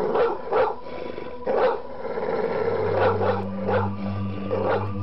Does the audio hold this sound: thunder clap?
no